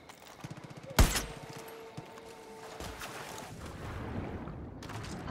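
A single sharp gunshot rings out in Far Cry New Dawn, loud and close, trailing into a steady rumble of boat engine and water ambience with a faint tone.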